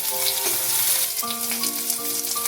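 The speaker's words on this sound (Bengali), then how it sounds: "আলুটা কিছুক্ষণ আগে ভেজে নিচ্ছি।" Thin, long-cut potato sticks sizzle steadily in a pan with little oil, a dense continuous frying hiss with faint tonal music underneath.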